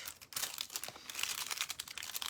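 Small leftover pieces of foil crinkled by hand for decorating oyster shells, close, rustling and crackly in quick irregular bursts, no voices.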